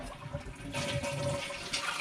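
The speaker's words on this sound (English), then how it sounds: "And now you can flush." A toilet flushes with a steady rushing, swirling water roar that builds after the first moment and holds loud and close to the end, with no talk over it.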